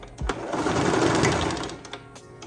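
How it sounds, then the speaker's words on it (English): Sewing machine stitching forward and back on folded fabric, a steady close whirring burst that swells and fades over a couple of seconds, with small clicks at start and end. "do a couple front and back stitches"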